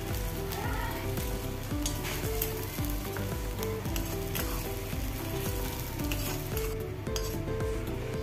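Mango and ginger pieces fry in frothing sesame oil for pickle, a loud continuous sizzle close by with frequent metallic spoon scrapes and clinks against the pan.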